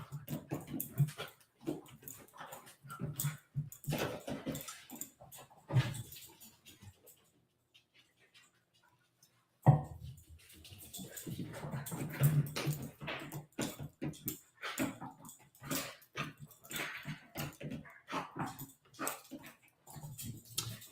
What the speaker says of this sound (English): Yes, there's my doggy.